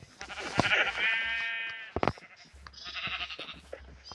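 Sheep in the Minecraft video game bleat several times in quick succession, clear and close, with short gaps between calls and no speech.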